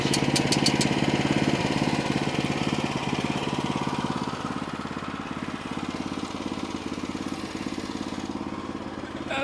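A sawmill engine runs at a steady, buzzing drone through a log cut, a continuous close mid-pitched rumble with faint rattling and no clear break in the sound.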